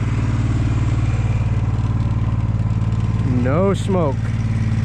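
A Walker 31HP mower engine, freshly repaired with a new head gasket, idles in a steady, smooth low drone throughout, with someone briefly speaking over it near the end.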